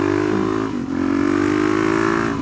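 Motorcycle on muddy tyres held at a high, steady rev, loud and close, the engine tone dipping briefly once before climbing back to a sustained droning whine as the wheels spin.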